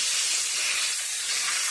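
Chicken frying in hot grease in an aluminum pan, giving a loud, steady sizzling hiss that fills the whole clip without pause.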